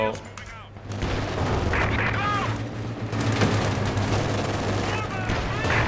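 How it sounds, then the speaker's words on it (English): Enemy tanks firing in a Company of Heroes 2 battle, with heavy booms and overlapping gunfire rumbling continuously across a loud, dense battlefield and radio-style voice chatter layered over the fighting. "Enemy tanks shooting us."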